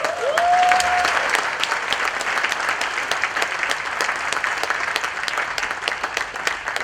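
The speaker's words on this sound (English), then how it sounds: "a round of applause for the king" Audience applause for the king of the Ashanti Kingdom at a Rotary Club conference: steady, dense clapping from a crowd for about seven seconds, with a brief whistle near the start.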